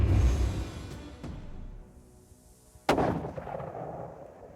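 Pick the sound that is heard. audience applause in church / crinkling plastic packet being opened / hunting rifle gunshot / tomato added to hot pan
hunting rifle gunshot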